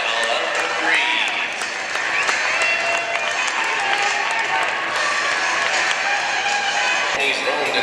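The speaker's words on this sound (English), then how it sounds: "send them off with a round of applause" A crowd at the Royal Agricultural Winter Fair horse show claps for the Frisian horses in a Battle of the Breed round, sustained loud applause filling an arena while an announcer's amplified voice talks over it.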